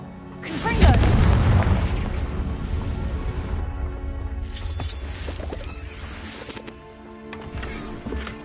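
A Bombarda spell explosion in Hogwarts Legacy bursts with a deep, heavy boom close by, then rumbles and crackles as debris settles, with smaller impacts and game sounds trailing afterward.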